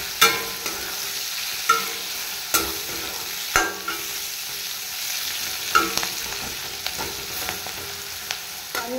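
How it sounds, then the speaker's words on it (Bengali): Potato, carrot, beans, capsicum and chili fry in a pan with little oil for chowmein, a steady sizzle broken by repeated sharp scrapes and clanks of a spatula stirring every second or so. "তো সবজিগুলোকে ভাজছি।"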